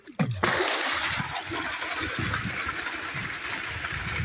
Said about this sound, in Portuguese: se você quiser dar uma descarga, tá? Puxa esse tanque ficando aqui